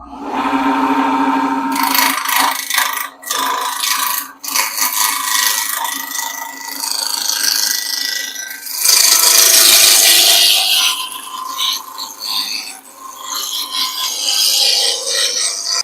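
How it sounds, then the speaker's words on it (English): Wood lathe turning a wooden blank down to a cylinder at about 1500 RPM, a loud, continuous rough scraping and rubbing of the gouge against the spinning wood, with changing intensity and brief dips as the tool lifts off, no voices. "I'm going to turn at about 1500 RPMs to get this down."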